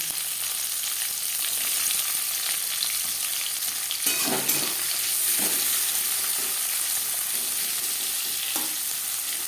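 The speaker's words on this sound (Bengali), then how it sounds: "কড়াইতে দিয়ে দিয়েছি চার চামচ রিফাইন্ড অয়েল এবার দিয়ে দেব পেঁয়াজ" Onions frying in refined oil in a kadai for chicken curry, a loud continuous sizzle up close, broken by a few scraping stirs and spatula knocks around the middle, no talking.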